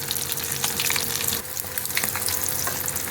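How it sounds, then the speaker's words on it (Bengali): Fish pakoras deep-fry in hot oil, giving a dense, continuous close-up sizzle and crackle with small bursts of bubbling, loud and steady throughout with no voices. "2 পিঠ একদম ডিপ ফ্রাই করে ভাজা হয়ে গেছে"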